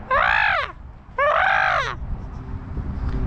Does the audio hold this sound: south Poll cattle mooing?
no